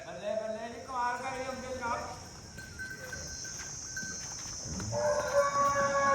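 Water buffalo bellow in two long, drawn-out lows, one at the start and one near the end, with farmyard noise between.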